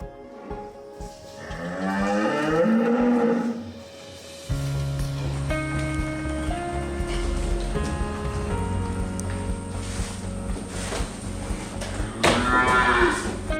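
Dairy cattle moo loudly in two long, drawn-out calls at the beginning and end, with a steady farmyard hum and rain-like patter filling the space between them.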